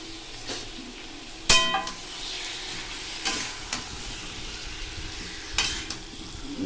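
Chicken meat hits a hot pan and sizzles steadily, with a few sharp metallic clanks of a spoon against the pan as it is stirred, close and moderately quiet, no talking.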